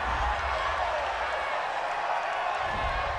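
Home stadium crowd noise during an NFL game between the Los Angeles Chargers and Jacksonville Jaguars after a penalty flag, a steady loud roar with scattered cheering and clapping that never lets up.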